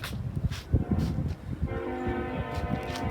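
A train rumbles past outdoors with its horn sounding as a sustained tonal blast in the second half, under a rough low rumble; moderately loud, no talk.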